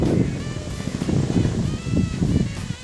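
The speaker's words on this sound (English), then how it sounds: "Listen for the horrible sputtering." A BMW HP2 motorcycle engine flooded after riding through deep trail water sputters and coughs in irregular low bursts, close to the microphone and mixed with outdoor wind noise.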